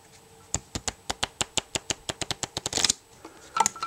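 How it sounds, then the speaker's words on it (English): A deck of playing cards is rippled in two quick passes during a close-up magic trick, each a crisp, evenly spaced run of sharp card flicks, close and clear, followed by a denser burst of riffling and a few final snaps. "when I ripple them like this, they're all different cards"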